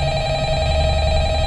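A telephone rings in Five Nights at Freddy's at night in Freddy Fazbear's Pizzeria, a loud, steady electronic ring tone with a low hum underneath and no talk.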